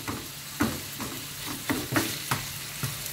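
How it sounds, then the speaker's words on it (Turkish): Minced meat fries in a pan, sizzling steadily while a utensil stirs and scrapes it in a series of irregular knocks, close by and without any talking. "Kıymayı güzelce kavurmamız lazım önce."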